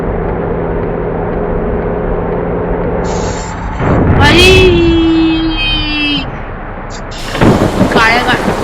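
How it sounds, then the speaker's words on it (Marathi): Heavy rain pounds a car during a highway drive in the Konkan region, a steady loud roar on the body and glass, with a rumbling swell and tonal swoops partway through as another vehicle passes. "खूप पाऊस पडतोय."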